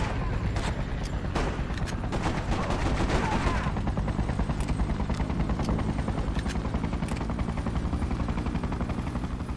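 Rapid automatic gunfire rattles continuously in a Freedom Fighters battle scene set in an invaded Manhattan, with dense bursts and sharp single shots layered over a loud helicopter-like rumble.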